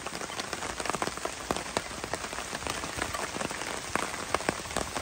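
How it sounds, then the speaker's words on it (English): Steady rain pours down at night in the woods, a dense, close patter of countless drops striking surfaces with sharp individual taps scattered throughout. "And the rain."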